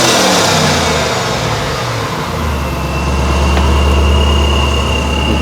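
The supercharged engine of a 2007 Ford Mustang GT Shelby, said to make about 350 horsepower, revs hard and loud up close, then drops into a deep, rumbling idle that holds steady to the end.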